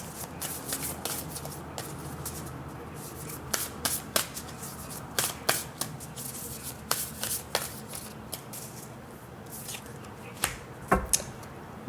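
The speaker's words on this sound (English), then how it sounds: "Let's get a card from the Rooted Woman Oracle deck for you to close it out" Cards from a Rooted Woman Oracle deck are shuffled by hand, giving soft rubbing and riffling with irregular sharp snaps and slaps, fairly quiet and close, with no talking.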